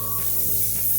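Grease is sprayed onto a waffle iron in one short continuous hissing burst, close and fairly loud, with no talk.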